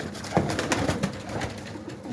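Large, heavy male pigeons coo steadily inside an aviary, a dense layered murmur of several birds at close range.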